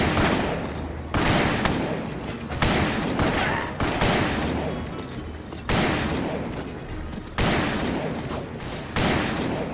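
Gunfire erupts in the Western video game Call of Juarez during a stagecoach chase across the prairie, a series of loud booming shots roughly every one to two seconds, each trailing into rumbling echo.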